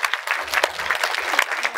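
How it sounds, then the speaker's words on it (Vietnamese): A live audience at a creative talk on music claps in steady applause, a brief continuous burst of many hands at moderate loudness. "Một tràng pháo tay cho bạn được không ạ?"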